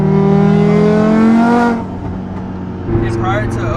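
An Audi TT RS with its exhaust open, loud and close, holding a steady droning rev that drops off partway through before a lower idle resumes.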